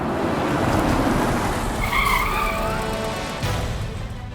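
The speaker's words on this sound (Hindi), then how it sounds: "कोई गाड़ी आई?" A car pulls in with a brief high tire squeal partway through, over a constant noisy rumble of the engine and road, with no voices heard.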